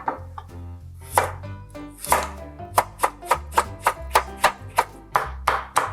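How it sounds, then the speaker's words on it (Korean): A knife julienning carrots on a cutting board makes crisp, evenly spaced chopping strokes that quicken into a steady rhythm, close and clear with no voices. "당근도 채 썰어주세요."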